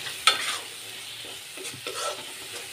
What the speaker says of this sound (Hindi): अभी मसाला पकेगा बढ़िया से, ग्रेवी भी हो जाएगा